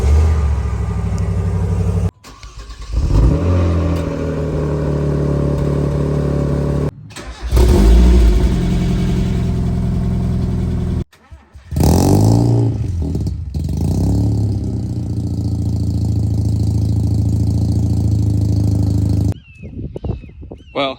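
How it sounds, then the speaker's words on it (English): A 1985 Mazda RX-7 GSL-SE rotary engine is started cold and settles into a loud, steady idle, with a few abrupt cuts and restarts of the rumble and revving surges partway through, close by and without talk. "I'll film the cold start so you guys can see that."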